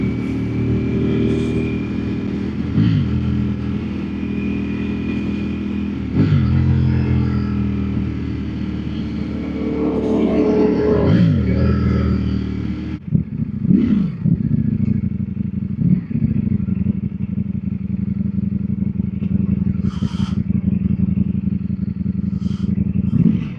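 A naked superbike roars as it accelerates through the gears on a road ride, engine pitch climbing and dropping with each shift, then settling into a lower steady drone; loud and close with wind rush and no talking.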